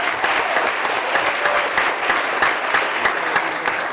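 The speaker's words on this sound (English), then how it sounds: "let's just give them a round of applause for those going back and coming back" Steady applause from an indoor audience at a county board of commissioners meeting, a dense even patter of clapping hands holding at one level throughout with no voices over it.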